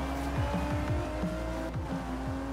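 A 2018 Land Rover Range Rover Velar First Edition launching at a race start in a racing game, its engine revving steadily and climbing through quick gear shifts under continuous loud motor noise.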